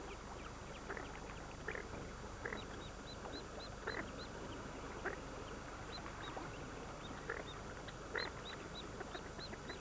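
Goldeneye duck and ducklings on a lake, giving a series of short, high, evenly spaced peeps over a steady wash of water and outdoor background noise, with no talking.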